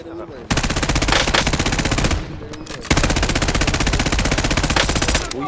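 Rapid automatic gunfire in the Call of Duty Warzone Resurgence video game rattles loud and close in two long sustained bursts with a brief gap between them.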